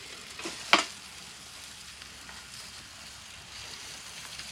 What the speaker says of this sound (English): We're gonna chuck them in the coals to give them a reverse sear.